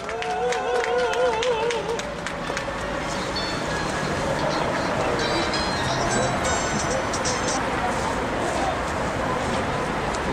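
A gathered audience at a Korean prayer meeting for a labor struggle breaks into steady applause, a broad, sustained clatter of many hands that begins under a voice and continues alone for several seconds.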